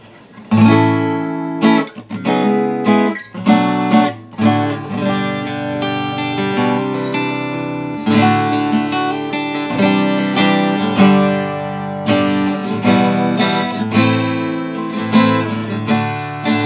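A refretted custom Taylor guitar strung with D'Addario 010 strings is played solo and close, with sharp strummed chords, ringing sustained notes and brief pauses between phrases, clear and without any talking.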